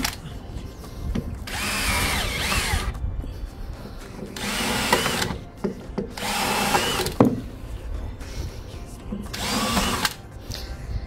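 A power drill bores into wooden planters in several bursts of two to three seconds each, loud and close, with short pauses between holes.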